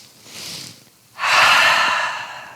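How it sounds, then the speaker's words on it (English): A yoga breathing exercise: a softer drawn-in breath through the nose, a short pause, then a long, loud, breathy exhale through the mouth that slowly fades, close and alone. "this is a 3-part inhale and then a long exhale out through the mouth"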